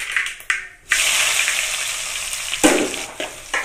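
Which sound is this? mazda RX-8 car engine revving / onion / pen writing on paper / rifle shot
onion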